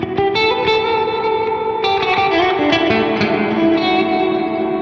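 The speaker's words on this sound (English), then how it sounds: "So this is the maximum hall you can get out of this unit." A guitar runs through a VOX StompLab IG modeling processor with its hall reverb at maximum, producing sustained, heavily reverberant chords that wash together continuously and loudly with no talking.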